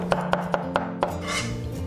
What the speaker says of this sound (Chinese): 准备几个马蹄，给它切粒。